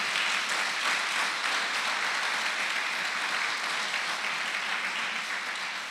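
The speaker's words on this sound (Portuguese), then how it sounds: "Aplauda o Senhor" A church congregation applauds together in a steady, dense wash of clapping that holds evenly for several seconds with no talk over it.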